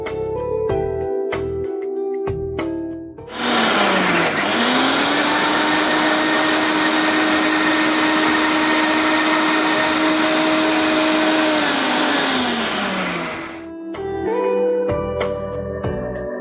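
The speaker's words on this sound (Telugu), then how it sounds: "సో మనం ఇప్పుడే యూస్ చేసేస్తాం కాబట్టి మిక్సీ పట్టేస్తున్నాం." A mixer grinder blends green chillies and coriander with a little water into paste, a loud steady whirring roar that starts abruptly, runs for about ten seconds and then cuts off.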